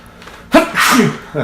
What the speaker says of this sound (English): sneezing, possibly messing up the audio there